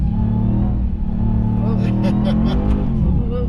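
A RAM TRX pickup truck spinning its wheels on snow, a steady loud engine rumble with rising revs, while people talk over it.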